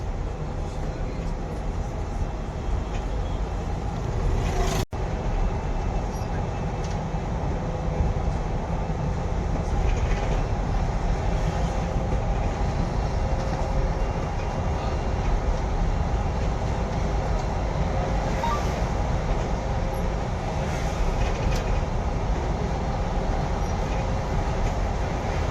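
A steady, loud rumble of road and motor noise fills the cabin of an MSRTC electric mini bus as it travels between Paithan and Chhatrapati Sambhajinagar via Bidkin, constant throughout, with no talking.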